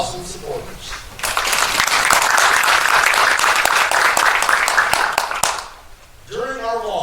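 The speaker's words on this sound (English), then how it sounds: "Let's give a round of applause," Audience applause at a Distinguished Young Women showcase for Fulton and Pulaski counties, loud sustained clapping from a full room that swells for about four seconds, then fades, with a voice speaking before and after.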